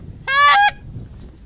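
A single hollow, honking goose call, loud and close, lasting about half a second before quiet returns.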